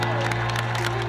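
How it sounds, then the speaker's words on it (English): An audience at a NASA event applauds and cheers, a loud burst of clapping with some whoops over a steady low hum from the room. "Round of applause for that."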